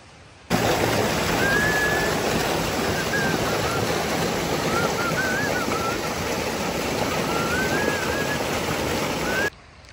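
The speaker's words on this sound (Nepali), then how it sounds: "यता पानीको खोलाको आवाज पनि ब्याकग्राउन्डमा बजिरहेको छ" Steady broadband rush of a jungle stream flowing along a forest trail on the Sundarijal–Chisapani hike in Nepal, continuous and fairly loud from start to end, with faint bird-like calls threaded through.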